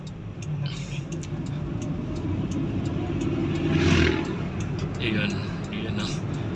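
A car engine revs during a distributor test, rising to a brief louder surge near the middle and then easing back, while people talk close by over the engine.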